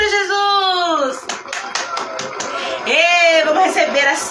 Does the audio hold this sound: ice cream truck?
no